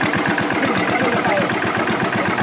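A truck engine runs at a steady, close, rhythmic idle after being started, its even chugging pulse continuing throughout with no talk.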